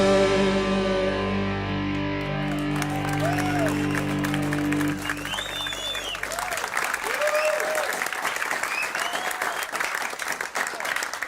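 Audience applause breaks out at a folk show as a song ends, dense clapping rising over the last ringing notes of the music and continuing steadily, with some voices mixed into the crowd.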